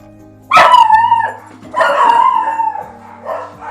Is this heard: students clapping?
no